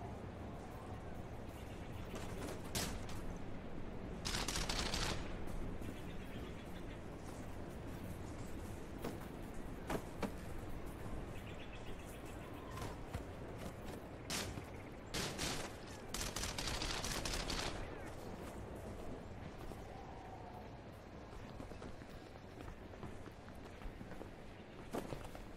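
Gunfire in the video game The Eternal Castle, bursts of rapid shots and sharp cracks scattered over a low steady game background, moderately loud, with occasional footstep-like taps.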